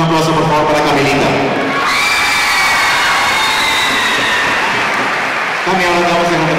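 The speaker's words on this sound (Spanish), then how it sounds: "Un aplauso por favor para Camilita." An audience at a Catamayo concert claps for a young girl, a loud wash of applause rising in the middle while someone speaks over it at the start and end.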